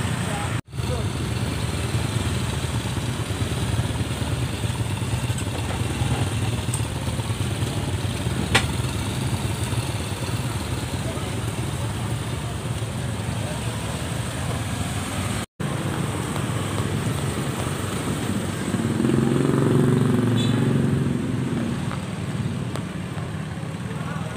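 Motorcycles and cars idle and creep through a congested market road at Rengasdengklok market, a steady dense hum of mid-range engines with passing traffic noise throughout, people talking nearby and one louder engine swelling near the end.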